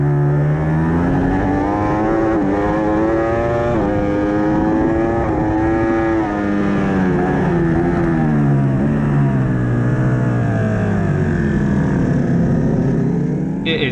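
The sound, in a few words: Ducati Panigale V4 motorcycle racing at Donington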